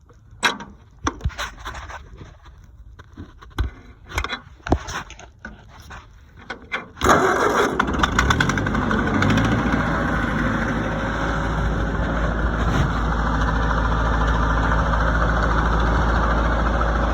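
A 70-year-old Ford 8N tractor engine cranks after some scattered knocks and clatter, then catches and settles into a loud, steady low idle that runs continuously to the end.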